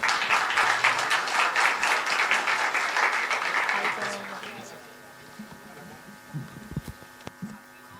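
An audience gives loud applause welcoming two speakers onto the stage at a technology conference; dense clapping fills the first half, then fades out, leaving a quiet room with a few faint knocks and rustles.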